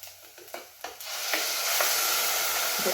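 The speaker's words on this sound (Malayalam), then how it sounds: "ഇനി നമുക്ക് ഈ അരപ്പ് അങ്ങോട്ട് ചേർക്കാം" A wet masala paste of ground coconut, chilli, coriander powder and turmeric hits a hot pan with a few soft stirring knocks, then a loud, steady sizzle that fries on close by with no talking.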